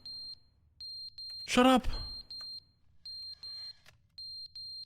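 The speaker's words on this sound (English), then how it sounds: "Is that a smoke alarm?" Smoke alarm in the video game The Stanley Parable, sounding as a run of short, regular high-pitched beeps, interrupted partway by a brief loud spoken outburst.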